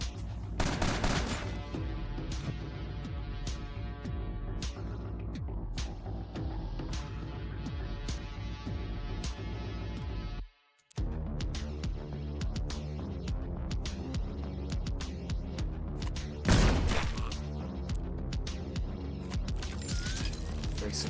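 Enemies in a video game unleash dense, rapid gunfire that throbs steadily for about ten seconds. After a brief silence it resumes as heavy sustained fire with a sharp louder burst near the end.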